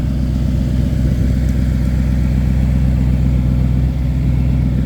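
A 2022 Porsche Cayenne GTS V8 idles with a loud, steady low rumble and an even throb, heard up close and alone.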